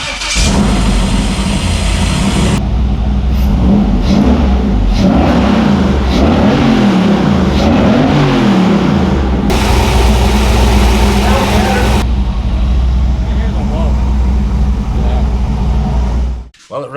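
Freshly repaired engine cranks, catches and runs, revving up and down before settling into a steady loud idle close by, then stopping at the end.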